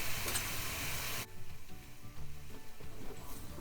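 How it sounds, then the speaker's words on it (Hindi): Spices stirred in a hot oiled pan for masala fish, a bright sizzle that drops sharply after the first second into softer frying crackle with light scraping. "इनको अच्छे तरीके से हिला लेंगे"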